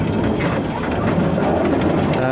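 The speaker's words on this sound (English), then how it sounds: "So there we go, running a steam engine, surprisingly hard work." A steam locomotive on the Vale of Rheidol Railway makes a steady, loud rumbling rush of running noise with hiss, close by and continuous throughout.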